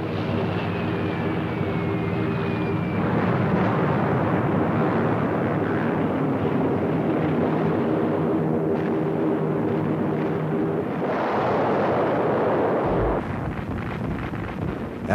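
A World War II Grumman Avenger aircraft and bombing over a beachhead against entrenched Japanese troops, a continuous loud roar of engine noise and rumble with wind-like hiss, swelling and fading.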